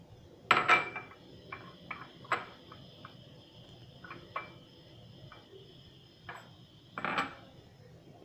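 Raisins go into a pot of semolina kheer cooking over high heat, making a series of faint, sparse ticks and light clinks against the pot, with a few louder clusters of clatter in a quiet room.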